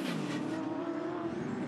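Muscle race cars, including a 1955 Holden, racing at Pukekohe circuit toward the Husqvarna hairpin in a New Zealand Central Muscle Cars race, engines roaring steadily at mid distance with a continuous loud drone.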